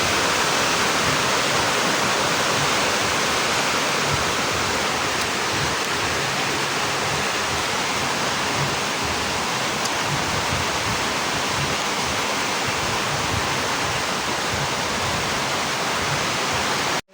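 Heavy rain falls outside in a constant, broad roaring hiss, loud and unbroken from start to finish, with no voices.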